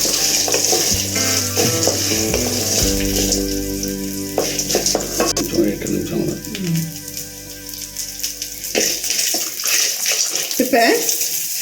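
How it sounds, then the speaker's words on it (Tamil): Dried turkey berries (sundakkai) fry in hot oil while being stirred, giving a continuous close sizzle with scraping stir noises. A voice is heard intermittently over the frying. "இப்போ காஞ்ச சுண்டத்தில் போட்டு எண்ணெயிலே நல்லா வறுக்கணும்"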